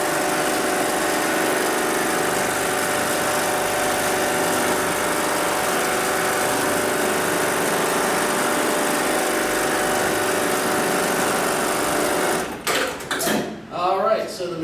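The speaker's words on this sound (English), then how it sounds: "I'm going to go ahead and tap the pedal on the left-hand side. That's going to initiate the sewing cycle." A Brother BAS-326G programmable industrial sewing machine runs its automatic sewing cycle: a loud, steady mechanical whir for about twelve seconds, then it stops abruptly and a voice briefly speaks.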